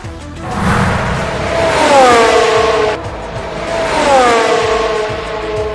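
A racing machine brakes hard into the first corner at Mugello during the Tuscan Grand Prix. Its loud, close engine note drops in pitch twice in a row, like downshifts while slowing, and no one speaks.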